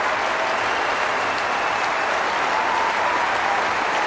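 The Court One crowd at Wimbledon, standing to acclaim defending champion Roger Federer after a 2005 quarter-final, gives a dense, sustained wall of applause that stays loud and even throughout with no talk over it.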